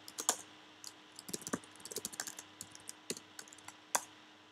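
Computer keyboard typing, a run of irregular key clicks with one louder tap near the start and another near the end, close and alone with no talk.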